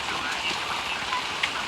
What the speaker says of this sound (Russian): Дождь начался.